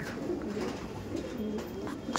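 A pigeon coos steadily in low repeated phrases, fairly close and clear, with a faint background murmur and no talking.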